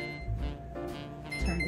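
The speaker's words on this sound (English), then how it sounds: "Turn this timer off" A kitchen timer beeps in a home kitchen during baking, a faint repeating electronic tone.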